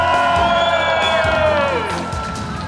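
Residents of five apartment blocks in the Kupelenko neighbourhood cheer, whoop and clap together from their homes in a loud standing ovation, with shouting voices rising above the clapping before it eases off slightly.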